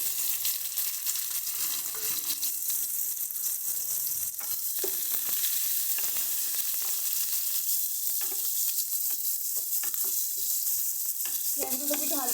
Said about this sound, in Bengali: এবার এর মধ্যে আমরা আগে থেকে কেটে রাখা পেঁয়াজগুলো দিয়ে দিচ্ছি।